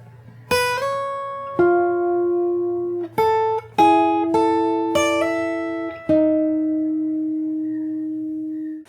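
Slow fingerstyle guitar melody from a song, including a slide, with clean single notes and small chords plucked one at a time, each ringing and decaying under a faint low hum.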